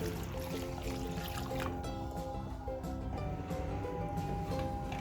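Half a kilo of water is poured into a cooking pot holding beef shank and salt for a Lahori beef bong stew, a steady splashing, trickling stream close to the microphone that continues throughout.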